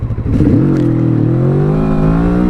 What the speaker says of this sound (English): So it's going to be very low RPMs and then kind of rev through it.